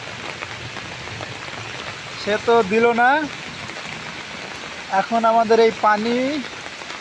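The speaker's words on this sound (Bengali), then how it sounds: "যে সুন্দর বৃষ্টিটা হচ্ছে" Rain falls steadily in a morning downpour as a broad, even hiss under two short bursts of a person talking.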